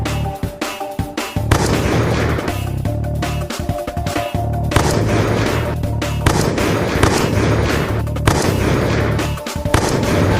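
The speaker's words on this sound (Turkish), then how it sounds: "Bomba atayım." Bomb blasts in a video game set against the Kayagil Union, heard as repeated loud booming explosions with crackling bursts and continuous music or effects underneath, several distinct blasts spread across the stretch with no speech.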